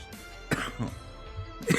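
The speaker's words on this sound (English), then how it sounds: "I'm dying and coughing over here." Several harsh, close-up coughs come in quick bursts, with throaty hacking and clearing between them.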